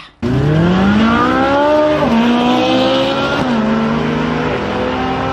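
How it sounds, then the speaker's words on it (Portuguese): A Ferrari engine revs hard and accelerates through several rising gear pulls, loud and close, with each shift breaking the climbing whine before it settles into a steady high drone. "Pense aí em um carro super potente, acelerado, uma Ferrari, por exemplo, em que você aciona o motor e vai"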